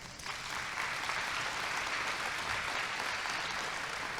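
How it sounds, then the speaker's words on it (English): Steady, dense applause from a large crowd at a scholarship pageant, continuous and fairly loud throughout, with no voices standing out. "Give them a round of applause."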